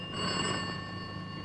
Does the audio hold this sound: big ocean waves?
no